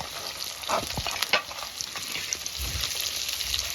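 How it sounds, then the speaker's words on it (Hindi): Red chilies frying in hot oil for a fish dish, a continuous close sizzle with a few stirring clinks and scrapes on top. "अभी इसमें हम ऐड कर लेंगे रेड चिलीज, इनको भी हम फ्राई कर लेंगे।"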